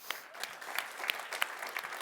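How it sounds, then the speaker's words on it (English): Steady clapping from an audience, a dense patter of many hands, moderately loud and continuous throughout. "Round of applause for Ramon."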